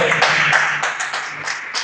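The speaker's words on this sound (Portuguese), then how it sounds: "aplauda o Senhor Jesus com muita fé" A church congregation claps in praise during a Portuguese-language worship service, with a steady, rhythmic burst of many hands close by and faint voices mixed underneath.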